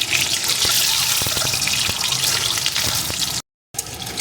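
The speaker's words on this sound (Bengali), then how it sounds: "ডিমগুলো এখন সুন্দর করে ভেজে নেব।" Peeled boiled eggs fry in hot oil in a pan, giving a steady loud hiss and sizzle with a few crackles, then a brief gap of silence before the sizzling resumes.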